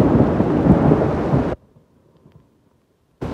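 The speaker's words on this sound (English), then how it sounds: "here comes more thunder" Loud thunder rolls through a storm, heard from under a tree while out kayaking: a deep, heavy rumble for about a second and a half, then a sudden near silence before the roar cuts back in.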